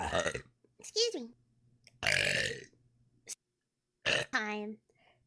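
A VTuber makes a run of short, close burps and throaty vocal bursts that are loud and separated by brief silences, and the last one is a longer voiced burp.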